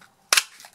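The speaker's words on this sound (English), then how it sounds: "which I'm just going to punch a couple of those out from" A sprig-shaped craft paper punch snaps once through glimmer paper, a single sharp, close click followed by a brief faint rustle.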